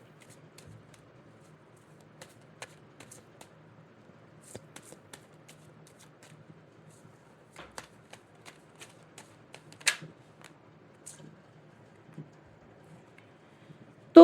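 Tarot cards being shuffled by hand, a soft, close series of quick riffles, flicks and light taps over a quiet background.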